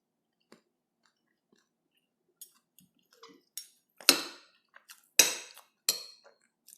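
Crispy salmon steak being chewed close up, with a few quiet crunches building into several louder, crisp bites separated by short pauses.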